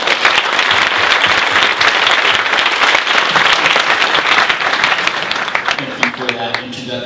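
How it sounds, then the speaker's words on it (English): Loud, sustained applause from a symposium audience for the panelists and moderators, dense clapping that tapers at the end as a voice begins speaking. "let's give a round of applause for all of our panelists and our moderators."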